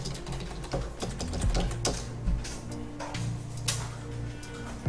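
Quick, close clicks ring out from a computer keyboard during AutoCAD drafting, a string of irregular keystrokes with a few heavier presses like an Enter key standing out.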